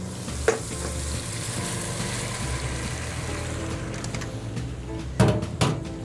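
Pasta tossed and stirred in a hot pan to coat it in warmed pesto, a steady soft sizzle with scraping utensil sounds throughout and a couple of louder clanks near the end.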